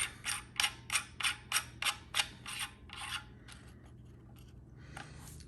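A rubber buffer screw is turned into a Sig Sauer Rattler upper receiver, giving a quick run of about ten crisp, evenly spaced ratcheting clicks up close. The clicks then thin out into faint rubbing.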